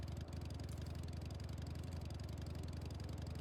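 Electric motorcycle in Final Fantasy XIV running with a steady, evenly pulsing motor hum, constant and close, with no speech over it.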